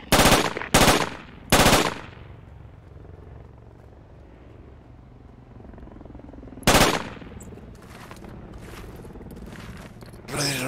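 Gunfire in the tactical shooter Project Reality: several loud, sharp bursts early on, then a quieter stretch of background rumble before another loud burst and lighter trailing shots.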